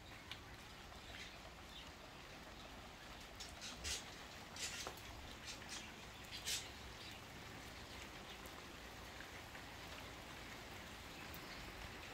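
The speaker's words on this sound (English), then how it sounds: "Can you hear the rain?" Light rain falls outdoors in California near a budgie enclosure, a soft, steady patter with scattered louder drips and faint bird sounds in the background.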